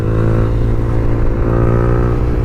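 A modified Yamaha R15 on track tyres, ridden without ABS, gives a loud, continuous engine drone under steady throttle while moving.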